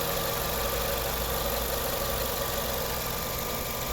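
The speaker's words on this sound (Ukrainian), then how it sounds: "Ось робота двигуна." A 2009 Renault Megane III's 1.6-litre petrol engine idles steadily and close by, a continuous even hum with faint mechanical ticking and no voices.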